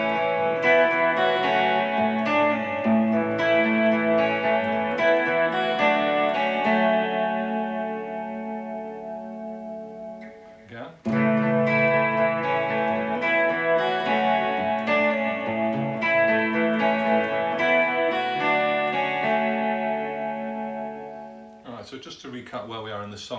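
Electric guitar plays the arpeggiated part of a song, chiming chorus-tinged notes sustaining in two long passages with a brief break between, a short strum closing it out.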